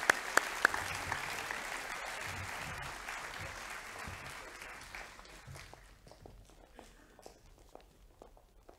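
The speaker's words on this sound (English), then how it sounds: "let's give them a clap" An audience claps loudly at first, a dense patter of many hands that gradually thins and fades to scattered claps and light footsteps, with faint voices underneath.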